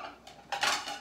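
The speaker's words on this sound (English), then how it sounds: "let me get a plate" Dishes and cutlery clatter in a home kitchen as a plate is taken out, a short burst of clinking ceramic and metal that swells louder near the end.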